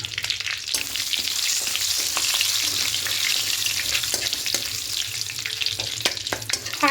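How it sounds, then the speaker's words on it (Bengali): Panch phoron spices and two bay leaves sizzle in hot mustard oil, a steady bright crackle with scattered pops and a few stirring clinks, close and continuous with no voices. "এবার তেলের মধ্যে ফোড়নে দেব 5 ফোড়ন আর 2টো তেজপাতা দেব।"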